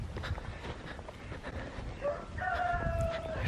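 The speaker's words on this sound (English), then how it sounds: "Why do we have a little chicken running at us?" A small chicken running loose on a farm gives a few short clucks and a drawn-out higher call near the end, fairly faint over outdoor background noise, with a possible dog bark mixed in.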